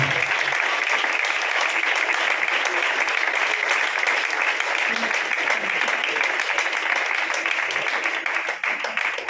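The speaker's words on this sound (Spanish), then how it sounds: "Dale un aplauso a Dios, por favor." A church congregation applauds in praise during a Spanish-language evangelical service, dense sustained clapping filling the room steadily and loudly for the whole stretch, easing slightly at the very end.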